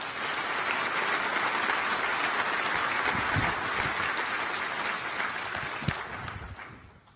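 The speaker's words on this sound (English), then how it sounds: "A round of applause for both honorees." An audience at a law enforcement awards ceremony applauds the honorees with sustained, dense clapping that holds steady, then fades out near the end.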